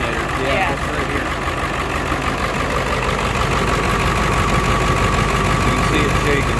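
A Ford F450 pickup's 7.3 Powerstroke diesel idles steadily up close, with a loud, rough, knocking clatter that holds constant and unbroken throughout.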